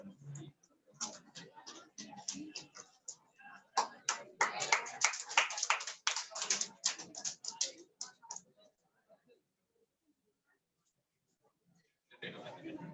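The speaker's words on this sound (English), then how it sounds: "Huge round of applause for him." Scattered clapping from a seminar audience builds into a burst of applause, sparse and roomy rather than thunderous, then fades to near silence before a few more claps return; a voice speaks early on.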